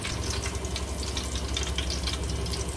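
Green chillies and cumin seeds fry in oil with a steady, even hiss and fine crackle, continuous and fairly close, with no speech over it.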